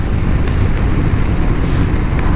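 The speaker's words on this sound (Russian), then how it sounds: "первое ощущение — ветер" Steady, loud wind roaring across the microphone while riding a motorcycle, with a low rumbling rush that stays constant throughout as if moving at speed.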